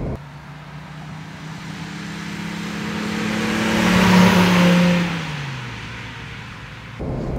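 A 1959 Mercedes 220 S Ponton cabriolet with its 2.2-litre six-cylinder engine pulls under load while driving, the steady engine drone swelling as it accelerates, then easing back, heard from inside with no talk.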